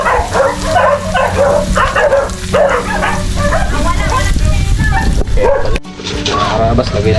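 Several dogs bark repeatedly outside, a fairly loud run of barks and yips that carries on throughout, with people talking over the noise.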